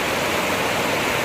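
Rushing water roars steadily at a creek waterfall running high, a loud, continuous wash of broadband noise with no voices.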